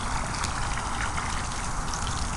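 Water gushing steadily from an outdoor tap in a front yard, a loud, close, unbroken rush with no voices over it.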